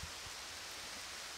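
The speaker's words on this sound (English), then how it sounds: "it is absolutely tipping it down right now" Heavy downpour at a bushcraft camp in a swampy valley, a dense, steady hiss of rain drumming on a tarp and surroundings, continuous and enveloping for the whole stretch with no pauses.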